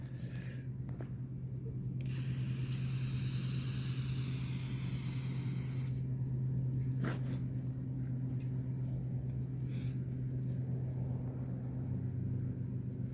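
A long, steady hiss of aerosol cleaner spraying onto a 1968 Camaro rear brake line lasts about four seconds, close by, over a low constant hum, followed by a faint brief spurt.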